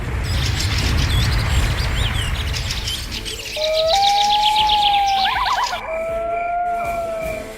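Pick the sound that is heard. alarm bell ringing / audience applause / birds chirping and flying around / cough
birds chirping and flying around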